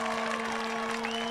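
Distant, steady applause from a baseball crowd of about 3,000 standing at Raimondi Park, soft and continuous beneath a steady electrical hum.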